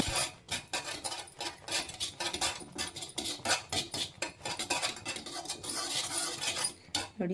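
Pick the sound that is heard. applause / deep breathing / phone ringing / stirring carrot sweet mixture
stirring carrot sweet mixture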